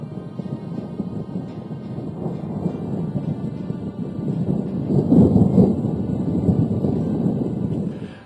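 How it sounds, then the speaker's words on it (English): Thunder in a storm, a low continuous rolling rumble that builds toward a louder peak midway and then sustains before fading, heard alone with no talk. "the traveler looks at the lightning and listens to the thunder"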